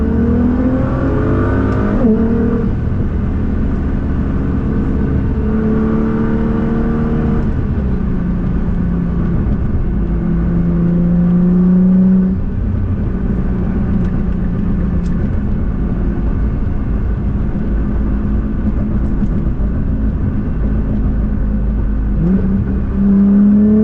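A Nissan GT-R accelerates hard through a pull, its engine note climbing steadily through the gears with brief dips at each shift, loud and close from inside the car with no talking.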